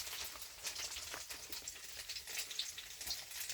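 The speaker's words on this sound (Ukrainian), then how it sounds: "Так що Надюк смажить." Ukrainian potato pancakes (deruny) fry in a pan with a steady, close crackling sizzle and occasional sharp pops, with no voices.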